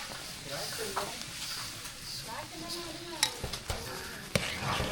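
A spoon works through sweet kesari in a pan just after sugar goes in, giving soft scraping and a low sizzle with a few sharper clicks against the metal. It is faint and steady.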